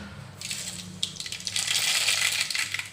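Half a spoon of mustard seeds hits hot oil for tempering a Kolhapuri misal curry, sizzling and crackling up close, swelling into a busier spitting hiss partway through with no voices.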